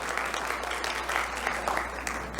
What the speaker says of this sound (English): Yes, you're allowed to clap.